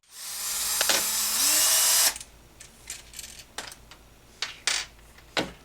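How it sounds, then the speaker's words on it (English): A power drill whirs loudly for about two seconds while backing out brake screws on a Turtle Racing rear transmission plate, its pitch shifting partway. Several short sharp clicks and taps of metal parts follow. "remove the two brake screws on the top as well as the third one in the back"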